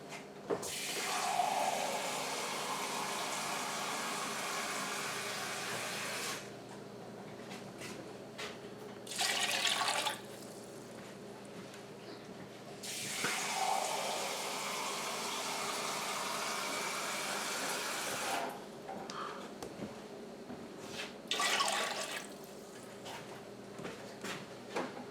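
Water runs from a tap into a pot for taco soup, a steady rushing stream that stops and restarts in several bursts over about twenty-five seconds, fairly quiet.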